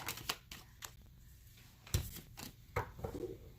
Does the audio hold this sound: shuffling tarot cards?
yes